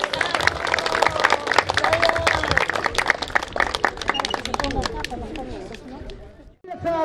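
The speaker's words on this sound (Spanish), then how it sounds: "Un voto de aplauso, por favor," Wedding guests applaud the newlyweds at a celebration in Pampas, Tayacaja. Scattered clapping mixes with crowd chatter and voices, then fades near the end.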